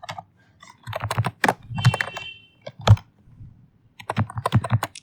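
Fingers typing code on a computer keyboard, bursts of close, clattering keystrokes in uneven runs separated by short pauses, with a few heavier thunks.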